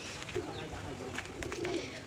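Pigeons coo at a farm house in a steady, continuous run of soft, low calls over a constant background hum, with faint higher chirps mixed in.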